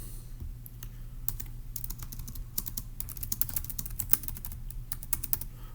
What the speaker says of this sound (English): So let's just type that up.